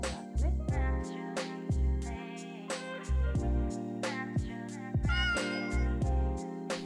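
A cat meows repeatedly, about half a dozen short rising and falling calls spaced around a second apart, over steady low tones that pulse on and off like a short jingle, with no speech.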